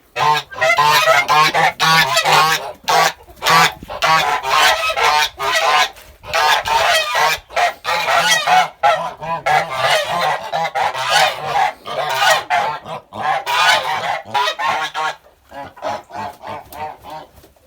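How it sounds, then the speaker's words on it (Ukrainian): A flock of Kholmogory geese honks loudly and continuously at close range, with overlapping calls that barely pause before thinning out near the end. "Йдемо зараз подивимося, що там наші гуси творять"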